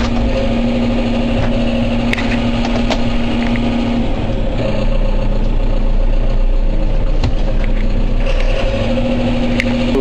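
A diesel tractor engine idles steadily at close range while being loaded onto a truck, a low continuous rumble with a few clanks and knocks over the top.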